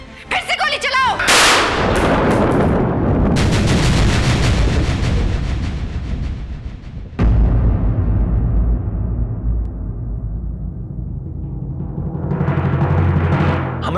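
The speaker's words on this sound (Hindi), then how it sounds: "इंदर फिर से गोली चलाओ।" Gunshots ring out in a Bhojpuri TV drama scene, one loud, sharp blast followed by a long booming decay, then a second heavy shot that rolls out into a sustained rumble.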